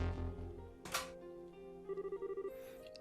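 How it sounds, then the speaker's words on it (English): A telephone in the Trails in the Sky SC video game switches on with a short chime burst followed by a quick series of evenly pulsed electronic ring tones, over soft game background music. "Tita flipped the switch on the phone."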